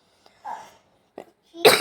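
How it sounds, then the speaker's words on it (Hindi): A few short throaty coughs from a person at home during Holi festivities, close and fairly soft, with a louder burst at the end. "खांसी कुछ ज़्यादा ही ऊपर चला गया।"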